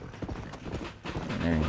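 Horse hooves clip-clop in quick rhythmic beats in the Xbox 360 game Red Dead Redemption, mixed with a creaky mechanical texture and soft game ambience.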